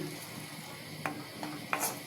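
Beef tripe frying in a pan on the stove gives a faint, steady sizzle, broken by a few light clinks and stirring scrapes.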